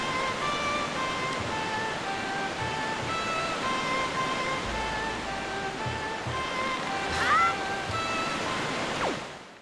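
Rushing water from a waterfall in the Zelda game The Wind Waker roars as a steady, full wash throughout, with a brief rising game effect near the end.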